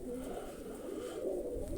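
Pigeons being released by hand, with soft cooing and bird calls close by over a steady low background murmur, no clear talk.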